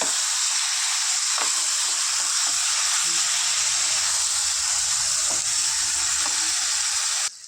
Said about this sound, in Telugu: రైస్ గోల్డెన్ బ్రౌన్ కలర్ వచ్చే వరకు ఫ్రై చేసుకున్నాం